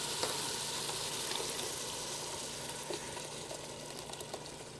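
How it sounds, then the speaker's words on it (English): Sauce poured into a hot pan of mushrooms and tomato for a Boursin rigatoni casserole, giving a steady, faint sizzle and liquid hiss with small bubbling pops, no voices. "now we're going to go ahead and just add our sauce"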